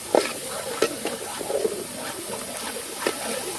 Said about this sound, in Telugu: ఇంకా స్పూన్ 2 స్పూన్లు ఈ అల్లం వెల్లుల్లి పేస్ట్ పచ్చివాసన పోయేంత వరకు వేయించుకోవాలి మనం